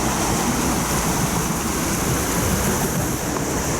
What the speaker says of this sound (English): the water's being churned like nobody's business